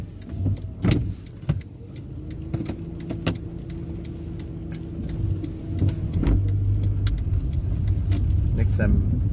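A car engine hums steadily while the car is driven, with clicks and small knocks from inside the cabin and people talking over it; the engine drone grows somewhat louder near the end.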